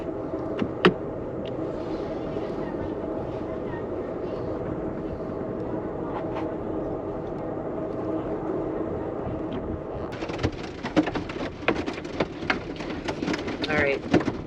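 Hail pelts a moving Amtrak passenger train during a storm. A steady rumbling ride gives way partway through to dense, loud clattering impacts that continue to the end.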